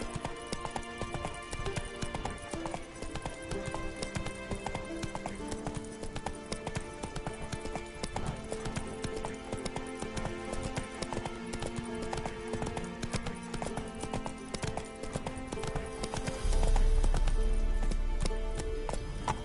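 A horse gallops in the video game Deus Ex: Mankind Divided, its clip-clop hoofbeats running in a fast, steady rhythm over a tonal background. A heavy low rumble swells near the end.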